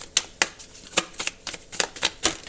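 Oracle cards being shuffled in a series of quick riffling bursts, about eight sharp rustling snaps spread unevenly, close and fairly crisp, with no voices.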